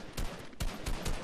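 Rapid bursts of gunfire from the Fortnite video game, several sharp shots in quick succession, fairly close and loud across a short span.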